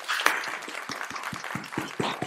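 A small group claps for an online teachers' community, scattered close-up handclaps with distinct, uneven individual strikes over a light background of further clapping.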